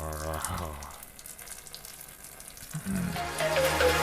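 Water pours and splashes while a doll is being bathed, a continuous running stream with a voice heard briefly at the start and again toward the end.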